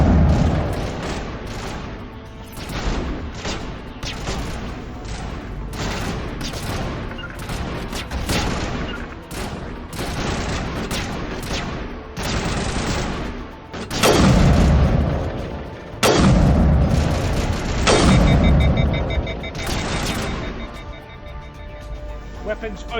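Gunfire in the Mass Effect video game, including sniper shots: repeated sharp bangs and heavier booms in uneven volleys over about twenty seconds, with someone talking over the shooting.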